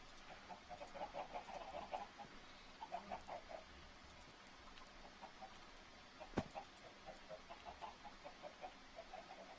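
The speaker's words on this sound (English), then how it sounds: "Oh, look at that chicken." Minecraft chickens cluck in a void-world map, soft repeated clucks in irregular clusters throughout, with one sharp click partway through.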